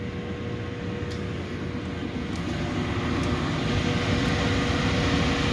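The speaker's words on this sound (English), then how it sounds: "we'll now turn it on. This is the Clean Shield HEPA 550" An Alorair Clean Shield HEPA 550 air scrubber runs with a steady, broad fan whoosh and low motor hum, even and continuous, swelling slightly louder as it ramps up, with no voices.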